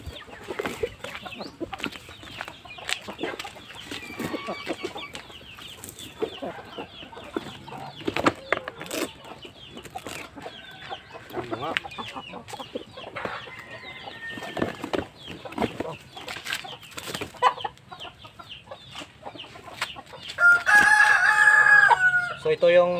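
Aseel chickens cluck and crow in a pen, with scattered calls, rustling and a loud burst near the end, while someone talks throughout.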